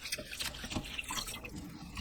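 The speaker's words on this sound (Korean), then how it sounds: "톳이 잠길 만큼 물 붓고 굵은 소금 한 큰술 넣어서 조물조물 씻어주세요" Hijiki seaweed being hand-washed in a bowl of water with a tablespoon of coarse salt: close, soft sloshing and dripping splashes in an irregular rhythm, with no voices.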